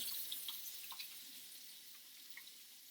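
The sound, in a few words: washing hands with soap under running tap water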